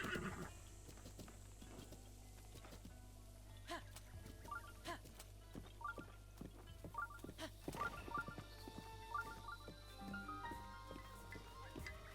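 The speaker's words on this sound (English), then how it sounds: "Where are you going, horse?" In The Legend of Zelda: Breath of the Wild, a horse whinnies several times over a low steady background, with scattered hoof clip-clops and faint game sounds.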